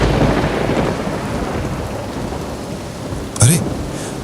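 Thunderstorm with heavy rain during a monsoon night near a graveyard: dense, loud, continuous rain hiss with a rumble, and a brief sharper burst near the end.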